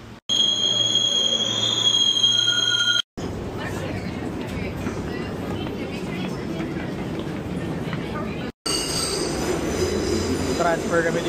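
A New York City subway L train rumbles along, its wheels squealing on the rails with steady, loud metallic grinding and clatter. Brief cuts break up the noise, and voices come and go beneath it.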